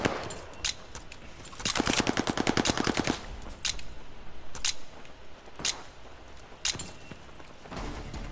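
MP40 submachine gun fire in the Call of Duty Vanguard alpha, heard as a fast rattling automatic burst of about a second and a half, followed by several single distant shots over game ambience.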